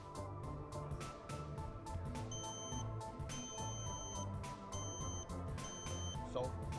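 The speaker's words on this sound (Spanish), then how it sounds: "activa la alarma inmediatamente al contacto con el agua para prevenir cualquier accidente" A water leak sensor alarm sounds in a series of repeated high electronic beeps, steady and even, over a busy background of music and ambient noise.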